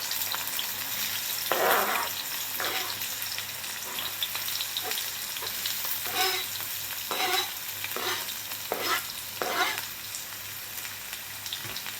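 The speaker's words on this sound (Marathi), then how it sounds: "यामध्ये सगळ्यात पहिल्यांदा आपल्याला हा जो भरपूर कट केलेला कांदा आहे तो घालायचा आहे." Plenty of chopped onion fries in hot oil, producing a continuous soft sizzle punctuated by periodic scraping bursts as the pan is stirred.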